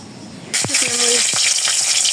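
A sudden hissing gush begins as cooking oil is poured into a pan during a village kitchen preparation, continuing steadily with a few soft knocks, and a voice speaks briefly over it.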